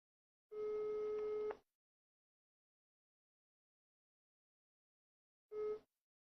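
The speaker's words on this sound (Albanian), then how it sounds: "Si duket kontakti po bie, telefoni po bie." A telephone gives a long electronic ring, about a second of steady tone, followed after a pause by a second, shorter burst, clear and alone in otherwise silent surroundings.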